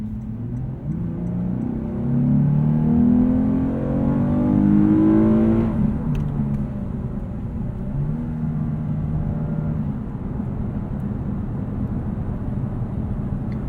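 Lexus RC 350 F Sport AWD V6 engine revving while driving, rising in pitch to a loud peak, then settling into a steady cruising drone with road noise.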